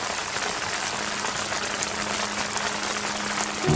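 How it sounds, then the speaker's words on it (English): Steady broadband rain falls at a mountain campsite, a dense even hiss of drops drumming on surfaces with no pauses, loud and continuous throughout, with a faint low hum running underneath. "There's no way I can film in this rain."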